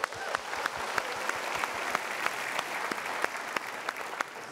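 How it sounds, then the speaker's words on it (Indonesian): An audience at an Indonesian motivational talk show bursts into sustained applause, many hands clapping densely and evenly with sharp individual claps standing out, loud and continuous throughout. "Ya, kita berikan tepuk tangan untuk beliau."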